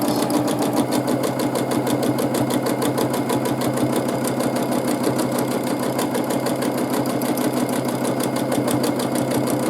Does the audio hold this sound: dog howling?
no